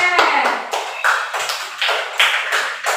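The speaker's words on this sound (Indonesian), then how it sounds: "Berikan tepuk tangan Teh." A classroom of fourth-grade pupils gives a quick round of clapping, several short bursts of hand claps in a rhythmic pattern, close and fairly loud, with a voice briefly heard at the start.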